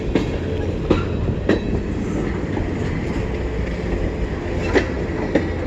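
A CN freight train rolls slowly past a crossing in Kimball Township, steady rumble with periodic clickety-clack wheel beats, moderately close and alone.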